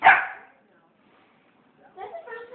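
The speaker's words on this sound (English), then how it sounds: "That's the first time Rush really barked" A dog gives one sharp, close bark, followed by a quiet gap and then people speaking.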